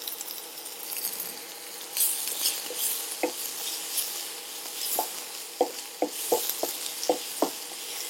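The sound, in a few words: tomato frying in a pan, being stirred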